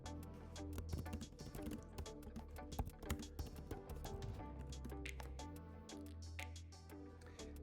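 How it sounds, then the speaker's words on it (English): Keys on a computer keyboard are typed in a quick, irregular run of soft clicks, faint and close, under a steady background of music. "Now, let me type."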